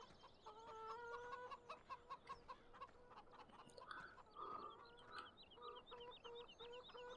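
White hens clucking close by in a farmyard, a busy run of short repeated clucks and squawks from several birds with no voices.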